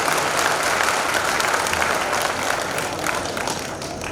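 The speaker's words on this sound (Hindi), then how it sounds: "सचिन भैया, उन सभी पूरे परिवार के लिए एक बार मेरा पूरा समाज तालियों के साथ सबका स्वागत करे।" An audience at a tenth death-anniversary memorial gathering in Borawan village claps in sustained, dense applause that stays steady and gradually eases, a large crowd heard from within the room.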